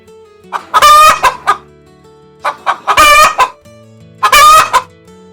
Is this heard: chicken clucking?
yes